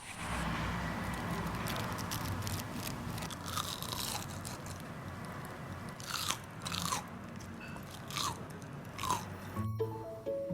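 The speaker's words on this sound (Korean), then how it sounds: "얼마나 바삭한지 ASMR로 확인시켜 드리겠습니다" Crispy fried blowfish is bitten and chewed up close, repeated sharp crunches standing out over a constant background hiss, with a few softer chewing sounds toward the end.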